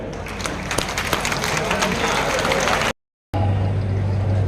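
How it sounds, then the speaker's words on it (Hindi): An audience at a journalists' union meeting in Morena stands and applauds with steady, dense clapping for about three seconds, then a brief silence gives way to a low hum. "जब तक खड़े होकर ताली बजाएं"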